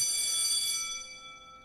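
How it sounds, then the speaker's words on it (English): In a video game, a school class bell rings with a bright, metallic tone that fades out over a second or two, heard alone without talk. "The class bell rings, disrupting the moment"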